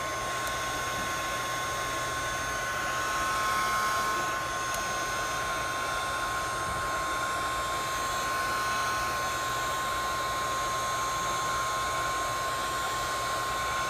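A heat gun blows steadily and loudly at close range onto a cracked Galaxy S5 screen to soften it for separation, a continuous airy roar with a faint high whine and no talk.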